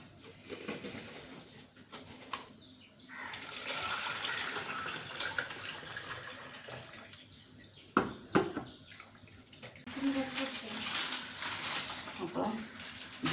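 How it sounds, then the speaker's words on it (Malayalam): Blended juice pours into a jug in a home kitchen, a steady liquid rush that comes in two stretches broken by a few clunks. A person talks over it, and birds sound faintly in the background. "ജ്യൂസ് അടിച്ചിട്ടുണ്ട് അത് നമുക്ക് ഒരു ജഗ്ഗിക്ക് ഒഴിച്ചു കൊടുക്കാം"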